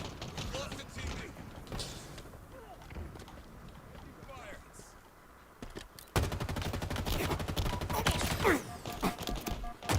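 Rapid bursts of gunfire sound in the video game Halo Infinite, with dense firing that grows louder and more constant in the second half, mixed with game effects.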